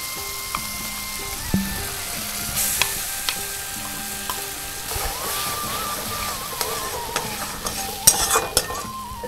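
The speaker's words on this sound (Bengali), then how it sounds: "এর মধ্যে তিলটা দিয়ে ভাজবো" Sesame seeds fry in a pan with salt and green chilli paste for a pointed gourd curry, a continuous sizzle broken by repeated scraping stirs and a few sharper clatters of the spoon.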